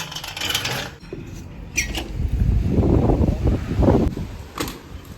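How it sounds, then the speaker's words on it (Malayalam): Gusty wind roars and buffets throughout, with low rumbling surges and a few scraping, rattling noises near the microphone. "നല്ല കാറ്റാണ്"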